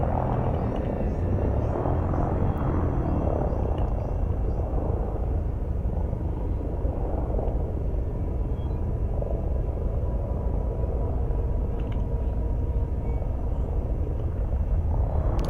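Dropships hovering in the Elite Dangerous video game, a constant heavy rotor-like rumble that stays loud and steady throughout, with faint higher mechanical tones above it.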